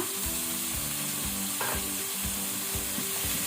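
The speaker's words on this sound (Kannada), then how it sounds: "ಈಗ ಇದನ್ನು ನಾವು ಮೀಡಿಯಂ ಫ್ಲೇಮಲ್ಲಿ ಸ್ವಲ್ಪ ಶಾಲೋ ಫ್ರೈ ಮಾಡಬೇಕು" Vegetables for pav bhaji, including cauliflower, shallow fry on a medium flame with a dense, even hiss. Low thuds and scrapes of stirring come at a steady pace.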